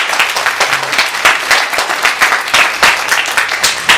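Church congregation applauding at a Sunday worship service, a steady dense round of many hands clapping at close range that holds throughout with no voices over it.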